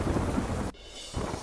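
Heavy rain and thunder in Kutch roar as dense, loud broadband noise that cuts off abruptly for a moment, then resumes.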